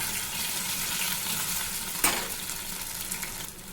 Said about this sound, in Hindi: तेल गरम हो गया है। अब इसमें डालेंगे मैरिनेट किया हुआ अरबी।